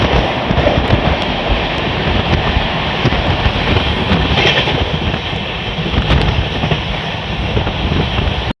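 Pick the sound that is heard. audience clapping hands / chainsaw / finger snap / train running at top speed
train running at top speed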